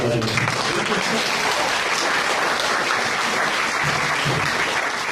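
Sustained audience applause at an awards ceremony for inventions, dense and steady clapping filling the whole stretch at fairly loud level, with a few voices faintly mixed in.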